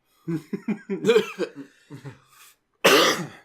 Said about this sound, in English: It'll be good for your cough